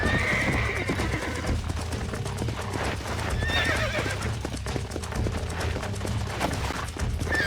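Steady galloping hoofbeats from a horse in the Western video game Red Dead Redemption, with brief neighs breaking through now and then over a continuous rumble of game ambience.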